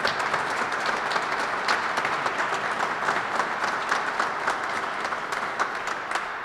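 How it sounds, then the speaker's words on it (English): A crowd at the Kentucky Governor's Roadshow event applauds the Transportation Cabinet, a thick, steady wash of many hands clapping at full volume for the whole stretch. "Let's give them a round of applause for everything they do"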